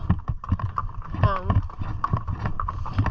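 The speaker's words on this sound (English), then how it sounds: "These are such amazing horses." Horses' hooves clip-clop in a steady rhythm on ground in the Sahara desert, close by, while a person talks over the sound.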